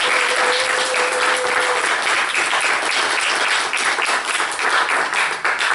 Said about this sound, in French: permettez-moi de vous demander une fois de plus d'applaudir Madame de